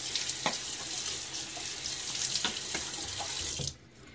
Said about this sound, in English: Now I'll just throw some water on my face.